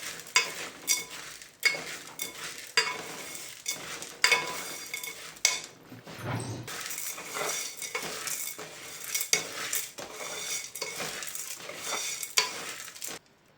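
A spoon stirs sugar melting in a pan for green coconut sweet, with steady scraping and clinking strokes against the metal and a soft sizzle underneath, close and fairly quiet.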